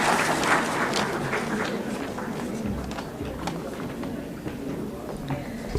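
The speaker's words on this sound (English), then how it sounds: "Please have a huge round of applause for Dr." A seminar audience claps in a dense, steady round of applause that fills the room evenly, with faint voices mixed in underneath.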